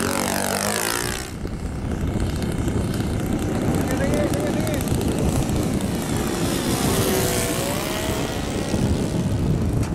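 An aircraft comes in to land with a loud, sustained engine and propeller roar that stays close and steady throughout, while people talk over it.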